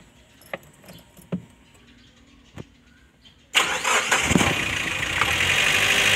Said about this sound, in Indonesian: kemudian kita coba lagi hidupkan mesin